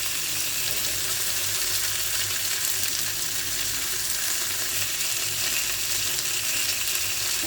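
Food fries in a small amount of oil in a pan, a dense steady sizzle that stays even and close for the whole stretch with no talking.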